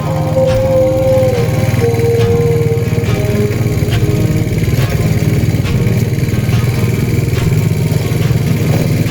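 Motorcycle with a damaged front suspension riding a rough road, a loud steady engine drone with rattling clatter and periodic jolts throughout, close up.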